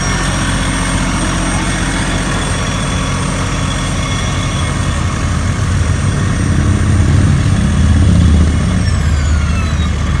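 A Class A motor home's generator runs continuously with a loud, steady droning hum and whining tones, constant throughout without letting up.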